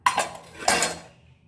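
Dishes and vessels clatter in a messy home kitchen, with two sharp metallic clinks about half a second apart, each trailing off in a short ringing rattle, close and alone.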